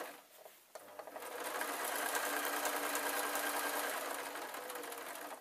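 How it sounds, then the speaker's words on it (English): A sewing machine stitching down the side of a ragdoll, a few short starts and then a steady close, fast whirring run for several seconds before it stops. "And then I'm sewing down the side."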